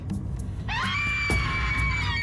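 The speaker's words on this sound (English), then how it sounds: "scream with apparent alarm" A woman's sustained scream of alarm bursts out after a brief quiet stretch and holds loud and high-pitched to the end, over a low background hum.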